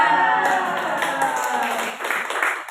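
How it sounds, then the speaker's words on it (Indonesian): Audience clapping at a school presentation on positive culture, a continuous patter of many hands filling the space, fairly loud, tapering slightly near the end. "Tepuk tangan."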